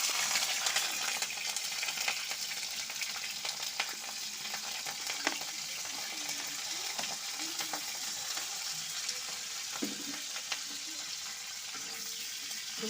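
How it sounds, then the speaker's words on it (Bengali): Cauliflower florets frying in hot oil, a steady close crackling sizzle that runs throughout with occasional stirring clinks and scrapes, no voices. "এখন আমি আগে ফুলকপিগুলো ভেজে তুলে নেব।"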